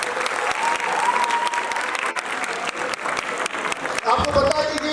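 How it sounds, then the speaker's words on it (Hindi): Sustained, enthusiastic audience applause after an Urdu stage play, a thick wash of clapping throughout, with voices rising near the end. "आपकी तालियां बताएंगे।"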